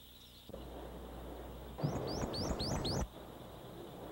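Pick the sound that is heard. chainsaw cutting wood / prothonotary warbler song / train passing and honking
prothonotary warbler song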